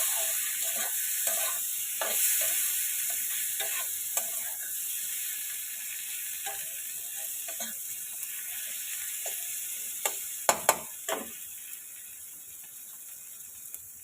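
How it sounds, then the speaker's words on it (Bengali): Soaked Gobindobhog rice frying and being stirred in a pan for a fish-head muri ghonto, a steady low sizzle with scraping spoon strokes and a few sharper clinks near the end, no talking. "একটু ভাজা ভাজা করে নেব।"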